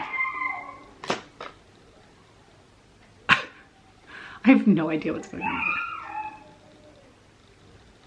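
A dog gives short yelps and whimpering whines in scattered bursts, with a person speaking briefly in between.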